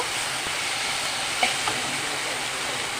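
Ground spices, garlic and ginger paste and ground coriander and cumin, are stirred in a hot frying pan for a fish ghonto, giving a continuous close sizzle with a couple of soft clinks from the spoon.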